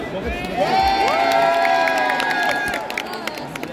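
A crowd at a cosplay convention contest in Dijon cheers and shouts in a loud, sustained burst, with whoops and tonal calls carrying over a bit of scattered clapping.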